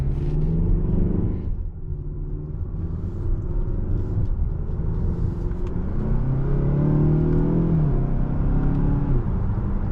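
Turbocharged 2019 Mazda6 Signature accelerating on the road, heard from inside the cabin as a loud, continuous low engine rumble that dips briefly near the start, then rises in pitch through the gears, with no talk.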